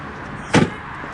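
A single short thud-and-rattle as a car door handle is pulled from inside and the jammed door fails to open, close and brief against a quiet cabin hum.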